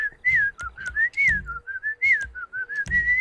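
A person whistles a wavering, sliding tune alone, close and clear, in a series of short phrases broken by brief pauses.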